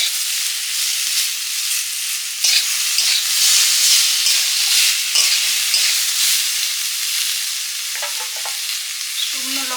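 Drumstick stems (sajne data) sizzle loudly in a hot pan, a dense continuous frying hiss with occasional stirring scrapes and crackles close by, no voices.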